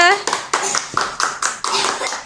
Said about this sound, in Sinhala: ඔයාලා ක්ලැප් එකක් දෙන්න